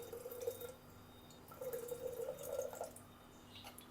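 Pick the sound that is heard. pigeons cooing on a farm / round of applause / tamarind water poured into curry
tamarind water poured into curry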